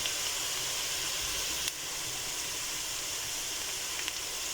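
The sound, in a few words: diced tomatoes sizzling with onions in a frying pan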